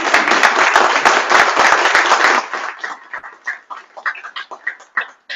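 Loud, close audience applause at a mayor's announcement about professional hockey in Evansville, lasting about two seconds before cutting off abruptly, after which only scattered, uneven sounds remain.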